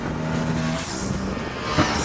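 Aprilia Tuono 457 twin-cylinder engine with a 270-degree crank, a steady low burbling exhaust note at moderate level, with a brief sharper rise near the end.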